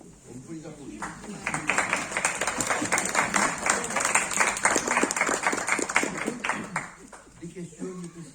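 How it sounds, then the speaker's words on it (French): Applause in a Roquevaire municipal council meeting, rising from quiet talk into several seconds of brisk clapping by a modest group, then fading back as a voice resumes. "On peut les applaudir."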